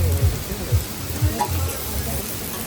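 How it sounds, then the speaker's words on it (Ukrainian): Chicken shashlik sizzles on an outdoor grill with a soft, continuous hiss and crackle, while faint talk sits beneath it. "Курочку смажемо?"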